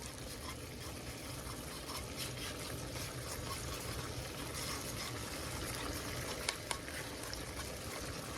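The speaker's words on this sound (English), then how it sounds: "And now you see it simmering." Chicken hearts simmering in a pot, a steady close bubbling and sizzling hiss that continues evenly throughout, with no speech.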